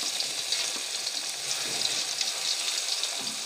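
Garlic and ginger sizzle in a small amount of hot oil, making a continuous bright, hissing fry at close range with no voices over it.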